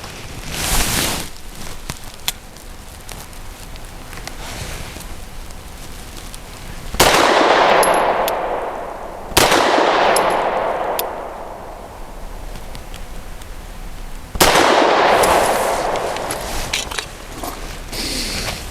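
A Grand Power P1 Ultra pistol fires 100-grain frangible lead-free bullets outdoors. Three loud, sharp shots are spread several seconds apart, each trailing off in a long echoing decay, with quiet pauses between them.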